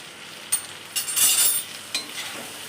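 Liver fry sizzles in hot oil in a pan while a spoon stirs it, giving a soft steady crackle broken by several scraping strokes and light metallic clinks.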